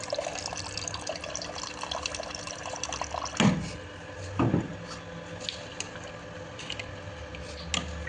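Water splashing and running from a tap, with a couple of louder gushes and drips against a busy background.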